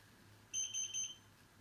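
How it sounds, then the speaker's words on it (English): A Xiaomi Air Purifier 3H gives three short, high electronic beeps in quick succession during a filter reset, faint against a quiet room. "And we hear the third number of beeps."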